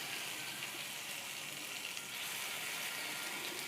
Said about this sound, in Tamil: 4 பக்கமும் நல்லா அதை நம்ம பொரிச்சிக்கணும்